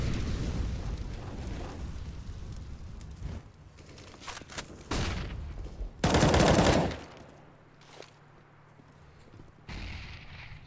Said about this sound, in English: Nades are flying all over